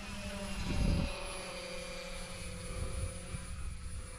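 A balsa wood RC airplane with two 2200 kV motors flies overhead, a thin steady electric whine with a brief louder swell as it passes, otherwise faint and distant.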